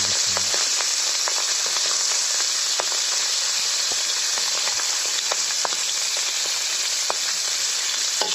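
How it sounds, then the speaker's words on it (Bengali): Hilsa fish fries in a pan of hot oil, producing a dense, constant sizzle with scattered sharp pops and crackles, close and fairly loud, with no voices. "আর এক পাশ হয়ে গেলে আমাদের মাছ ভাজা শেষ হয়ে যাবে"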